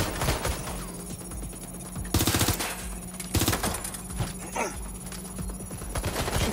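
Gunfire in the video game Watch Dogs: Legion, rapid automatic bursts and sharp single shots coming in close, loud clusters with short pauses between them.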